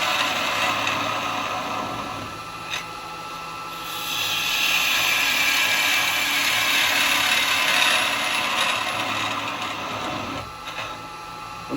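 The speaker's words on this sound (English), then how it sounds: "I'm going to use the square carbide, 14mm square, and I'm going to go straight in just to level this bottom off" A woodturning lathe runs continuously while a 14mm square carbide tool cuts straight in to level the bottom of a wooden ring holder, giving a steady broadband scraping whir that swells louder in the middle and eases off toward the end.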